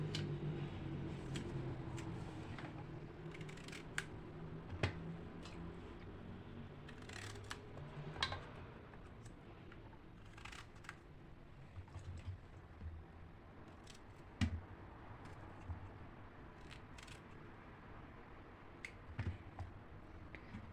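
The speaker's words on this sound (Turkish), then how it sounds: "Şöyle başlarını keselim." A knife slices the tops off eggplants and zucchini, making soft, sparse clicks and taps over a low, quiet background hum. The cuts come at irregular moments rather than in a steady rhythm.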